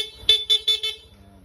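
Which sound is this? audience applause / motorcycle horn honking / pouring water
motorcycle horn honking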